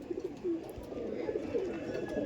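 A breeder pigeon coos softly in low, rolling phrases that repeat across the moment, close and steady against faint background noise.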